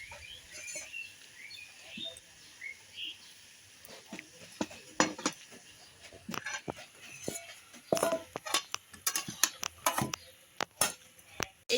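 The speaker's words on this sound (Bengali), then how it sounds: "এবার আমি নেড়ে চেড়ে নামিয়ে দেবো মোচা" Banana flower curry cooked with dal bori and ghee gets stirred in a pan, giving scattered clinks and scrapes of a spoon against the metal, irregular and fairly quiet, bunching into busier bursts toward the end.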